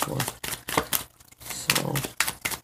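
Tarot cards being shuffled by hand, a series of crisp papery riffles and flutters in quick bursts with short pauses between, close and fairly quiet, with no talking.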